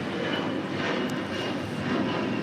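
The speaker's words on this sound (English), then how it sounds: "It's a 787-10 Dreamliner heading to Terminal 7." A Boeing 787-10 Dreamliner airliner taxis at an airport toward Terminal 7, its engines giving a steady, broad, moderately loud roar at a distance with no talk over it.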